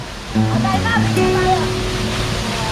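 A roadside waterfall in Gamay, Northern Samar pours with a steady, broadband rushing roar that stays constant and fairly loud, while voices talk over the water.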